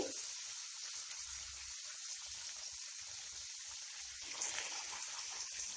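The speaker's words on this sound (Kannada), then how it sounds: "ನೋಡಿ ಇವಾಗ ಕುದೀತಾ ಇದೆ" Bitter melon gojju boils with tamarind juice in a pot, giving a steady bubbling hiss and soft pops, close and continuous, with no talking.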